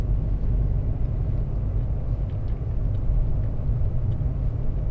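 A car rumbles along a road with a steady low engine and road drone heard from inside the cabin, continuous and fairly loud, with no talk.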